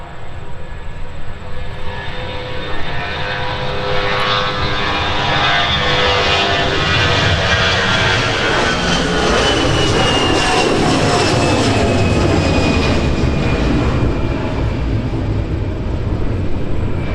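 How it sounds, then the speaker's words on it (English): An Airbus A320 jet airliner takes off from Minneapolis–St. Paul airport, a loud, sustained engine roar that swells and holds steady through the whole stretch, with a rising whine sweeping across the noise. "That flight is off to our nation's capital, Washington, D.C., DCA. That's an Airbus A320, Alex."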